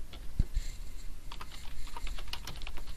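Computer keyboard typing while entering a once-only subcutaneous insulin order in a hospital ordering system: a scattered run of soft, quick key clicks, close and fairly faint, with no talking.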